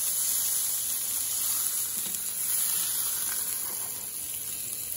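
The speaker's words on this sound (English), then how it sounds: "And now we're gonna turn over the burger." A burger patty sizzles loudly and steadily on a hot griddle alongside onions and peppers, a dense continuous frying hiss close up with no talk over it.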